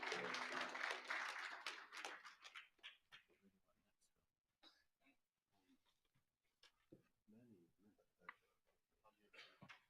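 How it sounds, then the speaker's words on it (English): Applause from an audience at a treaty conference, loud broadband clapping at the start that quickly thins out into scattered claps, followed by someone speaking over sparse remaining sounds. "Give him a round of applause, ladies and gentlemen."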